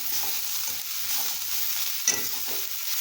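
Onions with curry leaves and coriander stir-fry in a pan for a simple onion chutney, with steady sizzling and scraping stirs throughout and one sharp clink near the end, no voices.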